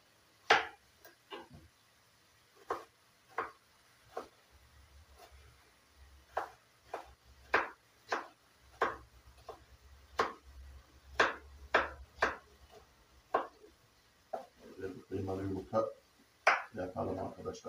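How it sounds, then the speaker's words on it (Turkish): A knife chops a tomato steadily on a cutting board in a series of regular, crisp chops, with a low background hum. "Domatesi de doğrayayım da."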